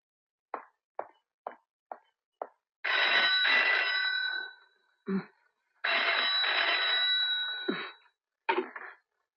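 In a Hindi film scene, a telephone rings loudly in two long bursts, with a few light knocks and taps before and between them and a short sound after.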